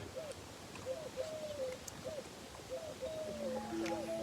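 Birds chirp and coo in the background, repeated short calls over a low steady ambience, fairly faint and unhurried.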